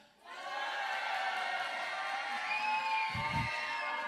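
A church congregation shouts and cheers together at a Christmas service, a loud sustained roar of many voices with whoops rising above it, close and unbroken.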